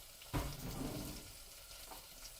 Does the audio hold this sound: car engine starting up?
no